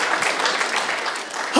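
A short burst of clapping from a stand-up comedy audience, with a cheer rising at the end.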